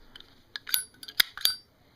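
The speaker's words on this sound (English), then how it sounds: "Now this has a really good Zippo sound. Kind of a bell tone." A Zippo windproof lighter made at the end of last year gives several sharp metallic clicks with a bright, ringing bell-like tone, heard close up and alone in a quiet room.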